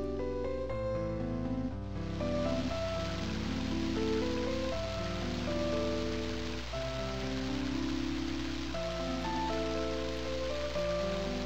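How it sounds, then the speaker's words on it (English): Rain beginning in the video game Mother 3, a steady hiss of rainfall that rises abruptly and continues under tonal game music. "Now it started to rain."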